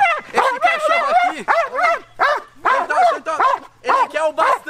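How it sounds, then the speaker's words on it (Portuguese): Dog at a large dog-care gathering giving a run of repeated yips, barks and whimpers, close and loud in uneven bursts, mixed with excited voices. "Ó, esse cachorro aqui..."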